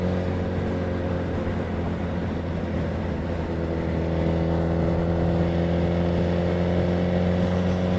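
A Suzuki Hayabusa motorcycle under way, its engine a steady, close drone that holds a low, even tone and firms up slightly partway through, with wind rush behind it and no speech.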